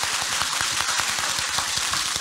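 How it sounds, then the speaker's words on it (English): Steady, dense clapping from an audience at a LifeWave LiveWell event: a continuous wash of overlapping hand claps at even loudness that fills the short moment, with no voices. "Let's give him another round of applause"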